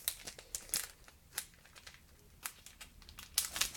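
Crinkly plastic packaging of scrapbooking die cuts being opened by hand, with sharp irregular crackles and rustles in quick bursts, quiet and close with no talking.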